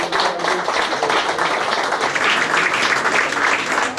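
Steady, dense applause from an audience at an evening awards ceremony in Paris, continuous and fairly loud throughout with no pauses.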